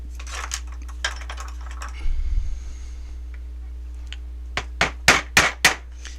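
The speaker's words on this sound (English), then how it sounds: "so you're normally going to want to hammer it from the left side." Hammer tapping out the trigger pin of a JG M4 airsoft gun: several sharp metallic strikes spaced apart, a brief scraping rustle midway, then a quicker cluster of four or five louder taps near the end.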